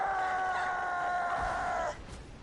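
A gobbler turkey in Borderlands 2 lets out a loud, sustained warbling gobble that cuts off abruptly, followed by a brief quieter tail.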